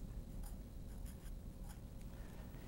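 Pen or marker writing a word into a blank on a prealgebra worksheet, a quiet scratchy rhythm of short strokes against a faint steady background hum, with no voices.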